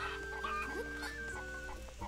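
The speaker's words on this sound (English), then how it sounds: "Oh, I could pick up the chicken." A chicken in the Zelda: Echoes of Wisdom video game clucks in short repeated bursts over soft game music, with no talking.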